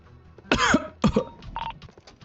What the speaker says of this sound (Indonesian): Batuk pak.